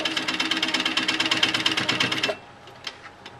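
A sewing machine stitches a quarter-inch quilt seam with a 1/4 inch foot, running in a fast, steady, close clatter for over two seconds before stopping abruptly, followed by a few faint clicks.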